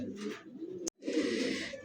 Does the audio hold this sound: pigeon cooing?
yes